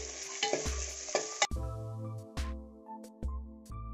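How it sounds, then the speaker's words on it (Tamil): Onions and tomato frying in a pan for Tamil-style sambar: a steady sizzle broken by repeated scraping stirs of a spoon, close up, with no talking. "வெங்காயம் தக்காளி நல்லா வதங்கிடுச்சு."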